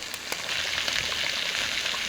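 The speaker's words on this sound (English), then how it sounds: "I can hear sizzling and boiling." Food sizzles and bubbles over a cooking fire at a medieval reenactment camp, a steady, close frying hiss with no talk.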